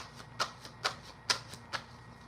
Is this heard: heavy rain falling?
no